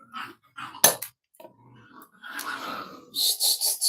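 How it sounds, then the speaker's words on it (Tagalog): Dogs snarl, yelp and growl in a short scuffle, ending in a rapid series of sharp barks close by. "Nag-aaway na naman yung dalawang aso."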